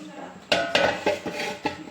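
A metal cooking pot goes down on the stove for biryani, giving several sharp, close clanks and knocks spread over about a second and a half.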